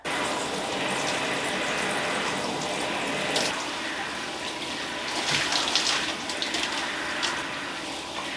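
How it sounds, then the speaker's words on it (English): Running water pours steadily as shampoo is rinsed from curly hair, a continuous close gushing rush with slight shifts in tone as the flow hits the head. "And now my hair is full of shampoo and we're going to rinse it out."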